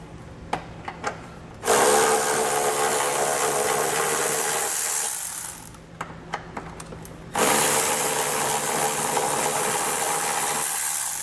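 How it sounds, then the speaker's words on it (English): Ratchet with an 18mm socket backing out exhaust hanger bolts on a vehicle frame, heard as two sustained bursts of fast mechanical whirring, close and loud, with quieter clicking and tapping between them. "we're going to take an 18mm socket and remove these 2 bolts here."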